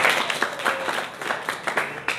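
A group at a religious talk claps together in a brief burst of rhythmic, fairly distinct hand claps, moderately loud and without speech.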